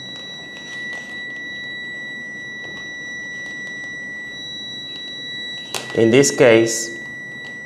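A multimeter's continuity beep through test leads, a steady high tone sounding continuously and close, with someone talking over it near the end.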